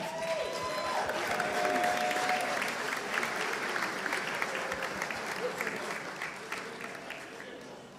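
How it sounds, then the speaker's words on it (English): Audience at a pizza award ceremony in Milan applauds steadily as a presenter is welcomed to the stage, dense clapping that slowly tapers off, with a brief tone audible early on. "A big applause for Lieke Metzger."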